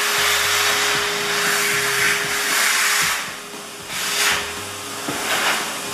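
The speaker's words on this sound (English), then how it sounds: "Good to hoover all your screw holes out." A vacuum cleaner roars steadily up close, cleaning out screw holes, its pitch dipping and rising as the nozzle moves, with knocks and scraping underneath.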